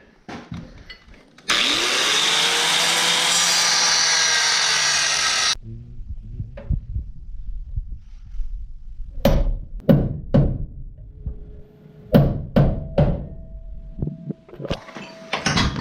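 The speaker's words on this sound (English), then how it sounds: "if we're gonna actually punch out the rivets" Rivets being punched out of a bracket on a 1967-72 Chevrolet C10 truck: a long loud grinding whine runs for about four seconds, followed by a series of sharp metallic hammer blows in an irregular rhythm, close and loud.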